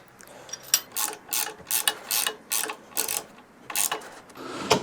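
A ratchet cranks to fasten down parts of a large DIY steel welding cart: about ten loud, close, evenly spaced clicking strokes in a steady rhythm, each a sharp burst of ratcheting.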